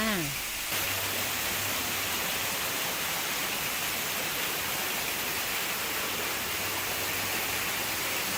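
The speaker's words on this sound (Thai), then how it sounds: "มีน้ำตก" A waterfall beside a cave roars as a dense, constant wash of rushing water, loud and unbroken throughout, with a brief voice at the very start.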